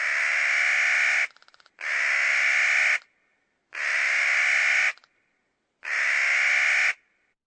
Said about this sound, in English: And that is the sound of a Clark's nutcracker.